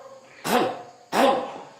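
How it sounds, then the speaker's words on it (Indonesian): A man clears his throat deeply from the belly, two short, gruff pulses a little over half a second apart, close and alone without speech. "Dehem-nya bukan dehem dengan tenggorokan, bukan dehem dengan suara dada, dehem dengan perut."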